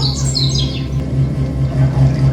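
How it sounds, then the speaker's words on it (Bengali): Birds chirping as they fly in, a quick run of high tweets near the start over a low steady background hum, fading out after about a second. "পাখিগুলো সব থাকে থাকে আমাদের এইদিকে উড়ে আসছে"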